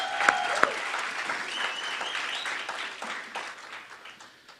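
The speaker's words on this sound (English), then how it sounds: "can we give them a round of applause?" A gala dinner audience applauds students who pitched in the first National Inter-College Competition: a broad, steady round of clapping that starts strong with a few sharp claps up front, then slowly thins and fades over several seconds.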